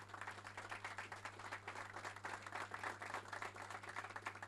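Applause for the mayor at the 113th anniversary celebration of Esquel, a steady wash of clapping from a gathered crowd over a constant low electrical hum, moderately faint and sustained throughout.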